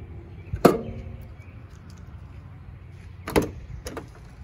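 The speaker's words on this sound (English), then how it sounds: "You also have your fuel door." Fuel door on a 1991 Mercedes-Benz 190E 2.3 opened and shut, giving two sharp, close clicks or thumps about three seconds apart with a faint third tap after, in a quiet setting.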